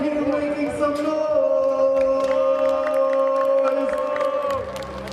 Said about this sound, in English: I'm going to ask you to give a big round of applause